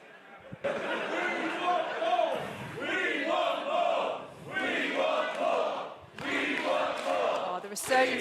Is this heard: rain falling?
no